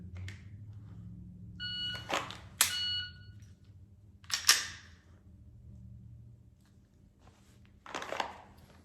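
A shot timer gives a sharp electronic beep during a dry-fire draw-and-transition drill, a brief tonal burst around two seconds in, followed by a few clicks and handling noises in a quiet room.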